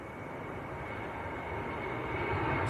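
A Ryanair Boeing 737-800, a 21-year-old jet bound for Madrid, rolls for takeoff at Manchester Airport, its engines a steady broadband roar that builds gradually in loudness over a few seconds, with no voices.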